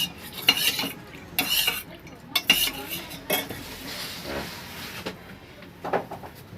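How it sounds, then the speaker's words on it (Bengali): Cornflour is stirred into water in a bowl with a utensil for a potato chicken fry, giving irregular clinks and scrapes against the bowl that are close and moderately loud, with no talking. "শুধু জলে কর্নফ্লাওয়ারটা গুলে নিলাম"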